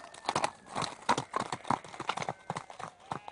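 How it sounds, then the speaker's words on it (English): Horses ride off at a gallop, their hooves clip-clopping in a fast, steady rhythm of close, crisp beats that carry on without pause. "give a loud shout, and ride off on their horses"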